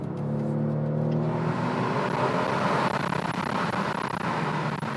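Kia Stinger petrol car accelerating through a tunnel, its engine note rising into a broad, loud roar as the tunnel echo and road noise build over five seconds, with no talking.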